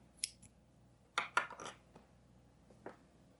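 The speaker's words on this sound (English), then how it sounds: "cut off your yarn right here" Scissors snip through yarn during crochet, a few faint, sharp metallic clicks and a quick cluster of cuts in a quiet room.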